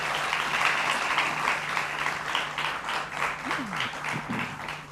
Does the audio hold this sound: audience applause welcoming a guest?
yes